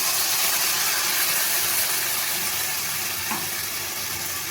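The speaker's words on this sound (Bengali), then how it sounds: "যতক্ষণ না মশলা থেকে আদার কাঁচা গন্ধটা চলে যাচ্ছে ততক্ষণ আমি মশলাটা ভালোভাবে কুমড়ো আর বেগুনের সাথে কষিয়ে নেব" Ginger spice paste sautéing in a pan with pumpkin and eggplant gives a steady, close, even sizzling hiss that barely changes throughout, with no voices over it.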